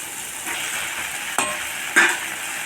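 Ginger garlic paste sizzles steadily in hot oil for a chicken gravy, with a few sharp scrapes of a spoon stirring it in the pan.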